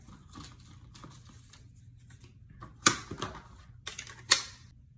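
Paper sheets stacked and cut together with a paper trimmer while making an accordion pocket for a baby album: a few sharp slicing and thudding strokes, close by, over a low steady background hum.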